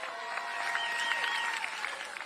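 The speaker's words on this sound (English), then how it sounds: "So I'll give them a round of applause." Applause from an audience at a 2025 high school commencement ceremony at Kealakehe High School, a steady, dense wash of many hands clapping for the whole stretch with no talking over it.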